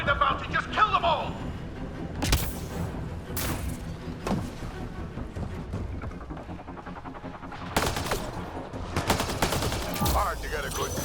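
Gunfire in a Mass Effect: Andromeda shootout on Elaaden, rapid bursts and sharp single shots with loud cracks and thuds, mixed with voices talking during the fight.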